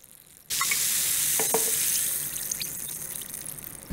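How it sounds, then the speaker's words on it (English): Steady high fizzing hiss of bubbles from Bubly grapefruit sparkling water starts abruptly after a short pause, with faint crackles and pops, loud and close, no talking. "Hear those bubbles."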